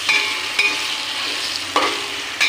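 Whole garam masala spices crackling in hot oil in a wok, a steady close sizzle punctuated by four light clinks and scrapes of a spatula at uneven intervals.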